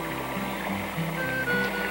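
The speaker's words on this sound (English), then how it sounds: "The woodland is filled with that wonderful sound of running water." Running water from small woodland brooks and streams in Newfoundland in May, a soft, continuous rushing wash at moderate distance with no voices.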